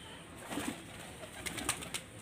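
Madras pigeons of an old Mundi sada dasu bloodline coo softly, a faint, low murmur against quiet background noise with a few brief, light sounds.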